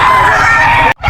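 A stag gamecock at Bocaue pet market crows loudly and close, one sustained harsh call that breaks off abruptly with a short gap before more noise.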